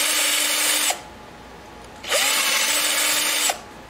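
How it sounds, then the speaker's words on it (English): A power drill bores holes in a banjolin part during repair, two close bursts of whirring with a short quiet gap between them, the motor pitch rising at each start. "Might as well go ahead and drill the bottom ones out too"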